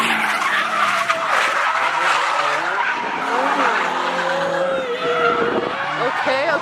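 BMW cars drifting in tandem, a continuous loud roar of engines with squealing, skidding tires, close by, with people talking over it.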